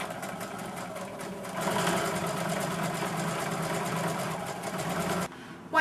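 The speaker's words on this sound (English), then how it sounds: "Then you're just going to feed it into your sewing machine" A sewing machine runs steadily while stitching fabric pieces for a quilted placemat with a quarter-inch seam, a close, even mechanical whirring hum that speeds up slightly midway and stops near the end.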